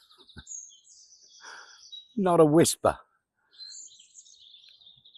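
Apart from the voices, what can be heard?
birds chirping on a hot morning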